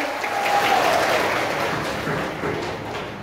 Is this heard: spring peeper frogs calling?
no